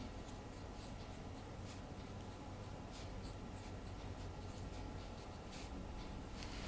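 Chalk or a marker scratches and taps on a board through a heat conduction lecture, with soft rubbing strokes under constant room noise.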